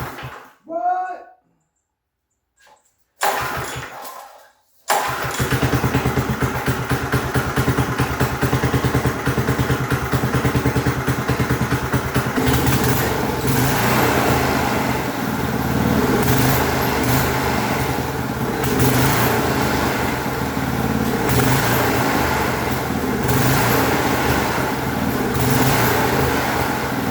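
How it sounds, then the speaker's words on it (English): A vintage go-kart engine, set at idle, gives a few short sputtering bursts, then catches and keeps running loud and close with a steady rattling drone and slight rises in revs for over twenty seconds. "Basically, the engine starts and runs."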